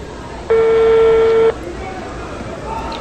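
A telephone ringing tone on an outgoing call at a men's inter-school basketball game, heard as one steady, clear electronic ring of about a second over crowd and arena noise.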